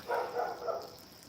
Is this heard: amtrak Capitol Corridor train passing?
no